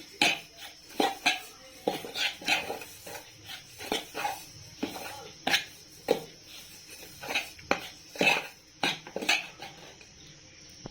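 A bitter gourd pickle mixture with onion-chili paste, fenugreek, cumin and mustard is stirred in a pot, giving repeated close clinks and scrapes of a spoon against the metal in an uneven rhythm, with no talking.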